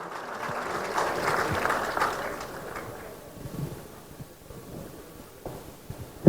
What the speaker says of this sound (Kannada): ಬಳ್ಳಿ ಚಪ್ಪಾಳೆ ಪ್ರಿಯಾಂಕಾ ಮ್ಯಾಮ್ ಹಾಗೂ ರೀಷ್ಮಾ ಅವರಿಗೆ ಪ್ಲೀಸ್